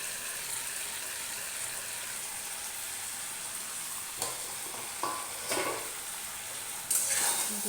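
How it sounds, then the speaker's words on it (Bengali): Marinated mutton frying in a pan for a mutton curry, giving a steady, close sizzle like light rain, with a few scraping stirs and clinks near the end. "এবার আমি ম্যারিনেট করা মটনটা দিয়ে দেবো।"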